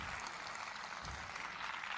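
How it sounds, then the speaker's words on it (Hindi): Men in a church congregation clap for the sisters, a steady wash of applause from a crowd, moderately loud and continuous throughout the short stretch. "देखिए ये सारी तालियां आपके लिए हैं।"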